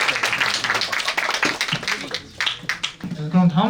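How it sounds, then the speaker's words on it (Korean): School audience applauding a first-year student called up to receive a prize, a burst of scattered clapping that thins out as a voice begins speaking near the end. "박수로 맞이해주세요."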